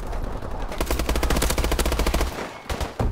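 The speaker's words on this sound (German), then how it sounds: "Überall Schüsse." Rapid automatic gunfire in the video game Call of Duty: Advanced Warfare, a loud sustained burst of machine-gun shots followed by a few more scattered shots.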